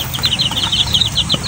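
Pet backyard chickens, with young chicks among them, call close by in a quick, steady run of high, repeated peeps and clucks over a low farmyard rumble.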